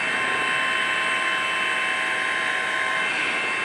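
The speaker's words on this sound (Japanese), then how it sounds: "警察のヘリコプターですけれども民家から遠ざかっていきます" A police helicopter's steady rotor drone during an earthquake rescue, loud and continuous, with a broad mechanical whine as it flies away; no voices.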